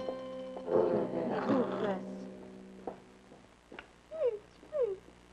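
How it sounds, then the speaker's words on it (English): A cartoon dog in a Muppets Cinderella sketch gives two short whimpering yelps near the end, after a stretch of loud speech-like sound and a brief squeak. "take that crummy dog with you"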